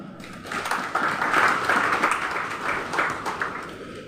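Conference participants at a synod gathering in Papua clap together in steady, dense applause that swells, holds for several seconds, then eases off, with no voices over it.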